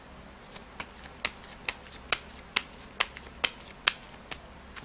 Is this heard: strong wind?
no